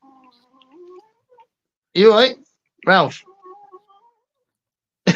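A house cat meows three times, loud and close, each call drawn out and wavering, with quiet speech between the calls.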